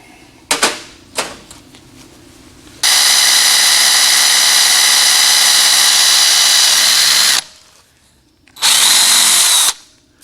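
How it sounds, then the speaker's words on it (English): A few sharp clicks, then a power drill whines loudly and steadily for several seconds drilling out a brass or bronze bushing on a 1948 Chevrolet rear axle, stops, and runs again in a shorter burst. "We're going to drill it out,"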